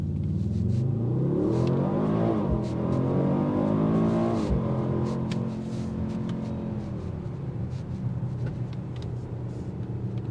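A 2025 Mercedes-AMG GLE 63 S Coupe revs hard under acceleration, its loud V8 exhaust note climbing in pitch before a couple of sharp cracks and pops, then settling into a steady lower drone.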